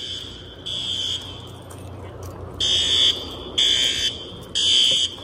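A high school fire alarm sounds during a drill, with loud electronic horn bursts that begin after a short lead-in and repeat in a steady on-off rhythm over a constant background hum.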